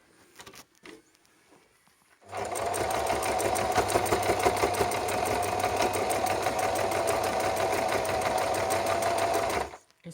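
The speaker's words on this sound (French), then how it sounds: "là on coud le galon. Donc d'abord on fait un premier point droit." Sewing machine stitching braid trim onto a mask with a straight stitch, a fast, even mechanical whirr running steadily for about seven seconds after a few quiet handling sounds.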